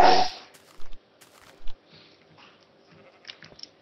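Sheep bleating in the Minecraft video game: a loud bleat at the start, then a few fainter, scattered game sounds and soft short noises around it.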